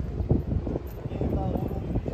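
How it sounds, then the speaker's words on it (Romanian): Blustery sea wind on the coast of Cyprus rumbles against the microphone in a continuous low roar while a person talks over it. "Miros de mare, vântul este așa, e de bun."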